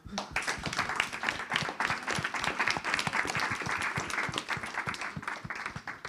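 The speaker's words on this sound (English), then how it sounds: "a big round of applause" Audience applause at a conference session on the societal impacts of culture: dense, steady clapping from a room of people, lasting several seconds at even loudness with no talk over it.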